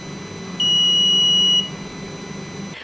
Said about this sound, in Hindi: तो चलिए वही प्रोग्राम है, लेकिन हमने बीप की आवाज़ सुननी है